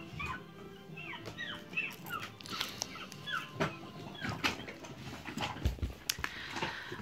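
A puppy barks and yelps from a children's baby-animals sound book: a run of short, high, repeated yips in a quick rhythm over several seconds, fairly close, with no talk.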